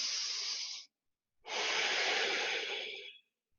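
Slow, deep yogic breathing during a gentle flow yoga class: a short breathy exhale, a pause, then a longer full breath, close and steady with no talking.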